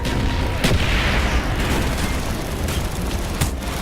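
Mortar artillery fire in the Call of Duty: Black Ops game, a few dull booms and thuds rising out of a dense, continuous wash of battle noise, with no clear speech.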